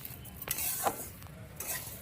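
Rice for basanti pulao fries in a pan while a spoon stirs it, scraping and clinking against the metal over a soft, steady sizzle. The sound is close and moderately quiet, with no talking.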